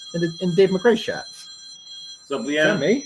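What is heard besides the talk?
mobile phone ringing during a podcast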